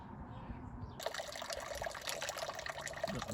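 Water splashes and trickles steadily during a water change on an outdoor koi pond. It starts abruptly after a quiet moment and runs continuously at close range.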